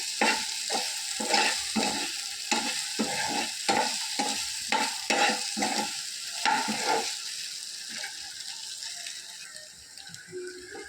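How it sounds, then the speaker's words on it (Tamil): Ingredients sautéing in hot oil with a steady sizzle, while a spoon scrapes and stirs in a regular rhythm of repeated strokes, heard close up with no talking. "இது எண்ணெயிலே நல்லா வதங்கணும்"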